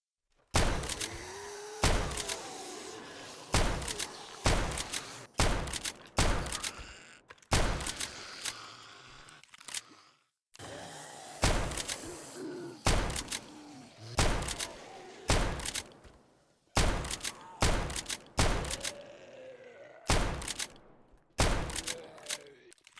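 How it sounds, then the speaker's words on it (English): A shotgun fires again and again in the 7 Days To Die video game, with sharp, heavy booms coming in uneven clusters and short gaps for reloading, loud and close, and no talking. "I enjoy this shotgun very much."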